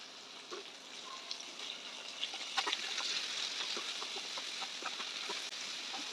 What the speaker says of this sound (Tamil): இதெல்லாம் நல்லா வதக்கி கொடுக்கலாம்